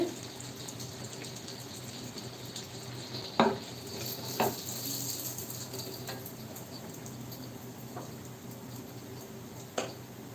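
Oil pitha sizzle softly in a pan while being stirred, a steady faint frying hiss broken by a few sharp clinks of the utensil against the pan.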